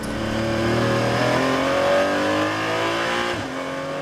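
Race cars at the Nogaro circuit in France, including a Porsche 911, roar past loudly with engines revving up and down through a hairpin, a steady layered motor drone with a brief deceleration near the end; no talking.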